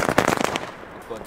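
Mini firecrackers pop off in a fast crackling string of small bangs for about half a second, then fade into background noise.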